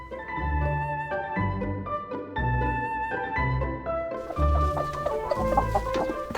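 A rooster and hens kept in a mountain farmyard cluck close by in repeated bursts of throaty, rhythmic calls, with a sharper, busier stretch of clucking near the end.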